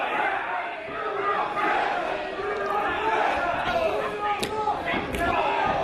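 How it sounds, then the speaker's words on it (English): A wrestling crowd roars steadily behind the challenger Lio Rush during a main-event Evolve Championship match against Zack Sabre Jr., a dense, continuous wash of cheering with a few sharp slaps and impacts rising out of it. "the crowd getting behind the challenger here in our main event for the Evolve Championship"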